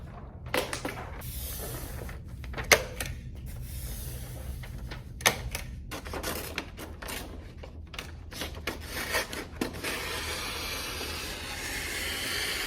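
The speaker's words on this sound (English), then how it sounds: "Just roll up the butcher paper, smooth it out, staple it as you go." Butcher paper is smoothed and stapled onto a classroom bulletin board, heard as sharp, scattered staple clicks amid crinkling and rubbing paper, with a steady hiss toward the end.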